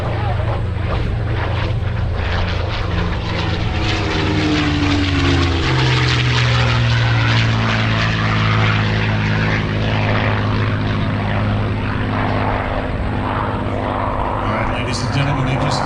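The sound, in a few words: P-51 Mustang propeller aircraft at airshow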